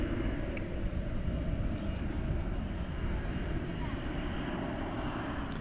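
A plane arriving at DFW Airport on a night of plane spotting, heard as a steady broadband engine roar that holds throughout, near and loud, with some talk underneath.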